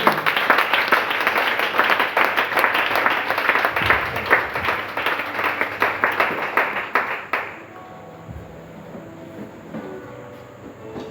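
A church congregation claps rapidly and cheers together for several seconds. The applause then stops suddenly, leaving a quieter room with faint tonal sounds.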